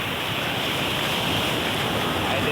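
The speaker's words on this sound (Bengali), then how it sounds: "দেখেন ঢেউ" Ocean waves roll in at Cox's Bazar beach with a loud, continuous broadband roar of surf, mixed with wind noise on the microphone and no talking.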